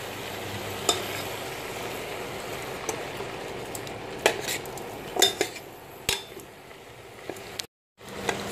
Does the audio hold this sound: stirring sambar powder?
yes